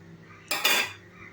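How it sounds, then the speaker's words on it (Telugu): A metal steaming stand clinks into a wide kadai set on the gas, two bright metallic clatters in quick succession close by, then quiet, while preparing dhokla without besan or Eno. "స్టాండును అందులో పెట్టండి"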